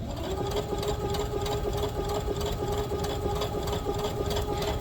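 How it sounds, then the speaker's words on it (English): A sewing machine stitches apron fabric from the fold in a curve, humming loud and steady at close range with a rapid, even needle rhythm and no talk. "We'll start at the fold, and then I will just start to sew."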